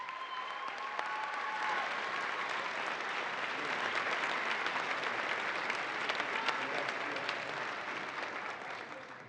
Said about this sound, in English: Please join me in a round of applause for them as well.